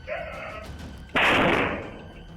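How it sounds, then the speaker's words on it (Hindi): A sudden loud burst of broadband noise from a hand grenade exploding against a wall cuts through low background murmur, then slowly decays. "शख्स ने एक हथगोला सामने दीवार पर दे पटका और अगले सेकंड तेज धमाका हो गया।"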